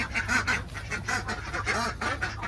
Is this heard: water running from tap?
no